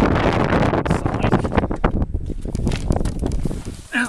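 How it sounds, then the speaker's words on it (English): Wind gusting across a microphone outdoors beside a Tesla Model S P85 on Orkney, a loud continuous broadband buffeting that rises and falls, with a brief sharper rush near the end. "The wind."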